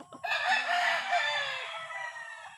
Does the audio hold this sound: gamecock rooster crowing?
yes